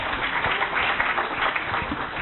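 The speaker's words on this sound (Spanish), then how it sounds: "Pues un aplauso" A group at an anti-bullying workshop applauds in a steady, moderately loud patter of clapping lasting a couple of seconds.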